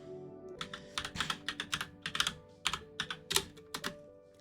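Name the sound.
typing on a computer keyboard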